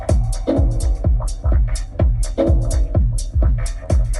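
Music plays through the factory audio system of a 2023 Haval Jolion hybrid, a punchy beat with heavy bass thumps about twice a second and bright upper hits, filling the cabin with no talking.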